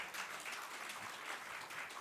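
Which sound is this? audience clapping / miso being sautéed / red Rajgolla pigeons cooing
audience clapping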